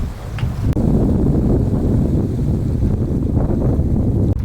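Strong wind rushes steadily over a sailboat running dead downwind at sea, a loud continuous roar with buffeting on the microphone and no voices.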